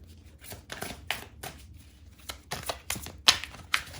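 Crisp riffling and slapping bursts of tarot cards being shuffled, several quick flurries with short pauses between, close by and fairly quiet.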